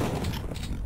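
Rocket launcher fire in Duke Nukem 3D, with a dense, loud blast filling the short moment alone, a heavy low boom with a rough, noisy tail and no voices.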